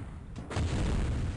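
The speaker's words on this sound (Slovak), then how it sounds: "Snaží sa nás trafiť mortálom." A single heavy boom of mortar fire lands in the 1998 Windows game S.C.A.R.A.B., with a loud thud and a short rumbling tail and no talk over it.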